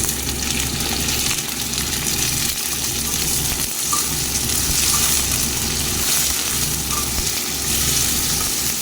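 Cut potato frying in a pan with onion, a continuous dense sizzle close by with occasional stirring scrapes and brief dips.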